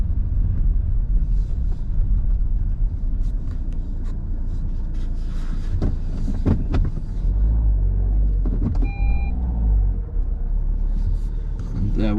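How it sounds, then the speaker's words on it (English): A work vehicle at a gravel-laying job drives nearby, a steady low engine rumble under ongoing talk, swelling slightly toward the end. "Look, there's one of our vehicles there"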